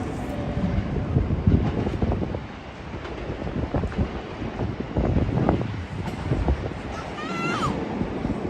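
Train rolling past near Shinjuku, Tokyo: a continuous loud rumble and clatter with wind buffeting the microphone, rising and falling over several seconds, with a short squeal near the end and no talking.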